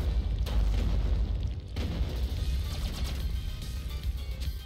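Grenade blast in the video game The Mummy Demastered, a heavy low boom that rumbles on for several seconds with further thuds rolling through, loud and alone with no voices.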